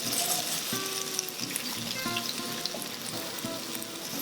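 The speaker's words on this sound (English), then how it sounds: "just gonna stir it around a little bit." Sauce for penne sizzles and fries steadily in a hot pan while it is stirred, with faint clinks of the utensil against the pan over a constant crackling hiss.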